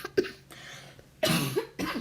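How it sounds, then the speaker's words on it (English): Several sharp coughs come in short bursts, one early and two closer together near the end, loud and close, with quiet gaps between. "Why does it wait till I live stream before I start coughing?"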